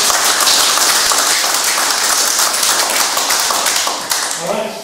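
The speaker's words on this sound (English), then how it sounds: "just a round of applause for Sam" Applause at an RSL SA/NT presidents forum, a room full of people clapping loudly and steadily, with a voice beginning to speak as the clapping continues near the end.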